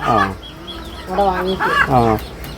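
A native hen clucks close by on a home poultry farm, a few short rising and falling clucks in a loose rhythm with faint background noise.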